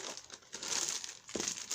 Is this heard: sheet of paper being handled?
yes